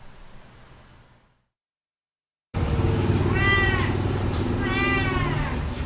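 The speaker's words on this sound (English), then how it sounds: "He was a stray kitten wandering around, probably looking for food." A stray kitten meows twice at close range, with two clear rising-and-falling cries over a steady background hiss that follows a short silent gap.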